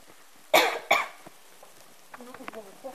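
Two sharp coughs close together, followed by brief quieter vocal sounds and faint background noise.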